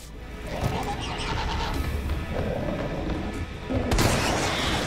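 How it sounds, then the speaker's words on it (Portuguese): Magnum gunshots and combat in Resident Evil 3 Remake on Inferno difficulty, with heavy booming blasts and crashes over continuous loud game noise, including a sharp powerful shot near the end. "vou te dar um tiro de magno"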